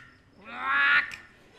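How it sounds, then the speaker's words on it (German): A single hoarse, rasping call of a toad rises and fades over about half a second, loud and close, heard during a night camping trip in the Grunewald woods near Berlin. "Nein, das war der heisere Liebesruf einer verzweifelten Kröte."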